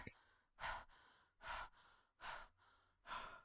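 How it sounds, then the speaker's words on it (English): A video game character breathes heavily, four loud, rhythmic breaths spaced about a second apart, each a rasping inhale or exhale standing alone and close up. "the character is heavily breathing"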